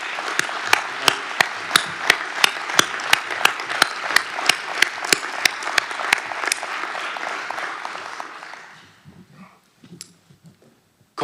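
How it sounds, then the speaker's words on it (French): A crowd applauds at the re-elected mayor's victory speech in Bry-sur-Marne, falling into loud rhythmic unison clapping with steady beats for about eight seconds before it quickly fades to a few scattered claps. "s'il vous plaît, de les applaudir."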